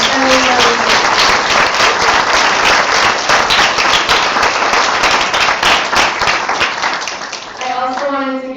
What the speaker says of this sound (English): a round of applause of thank you to our volunteers